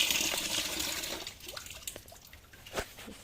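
Water is poured over Maggie the dog during a bath: a brief splashing gush that fades into scattered close drips and trickles, quiet and without speech.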